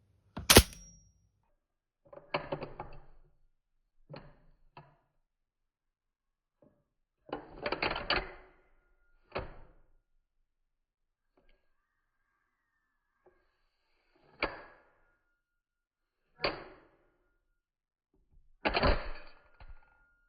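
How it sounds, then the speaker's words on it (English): The trigger and action of a deactivated Bren light machine gun click sharply and mechanically in a quiet room, a handful of separate snaps and rattles spread out with long silent pauses between them. "we're going to slip it to repetition or semi-automatic, and then squeeze the trigger"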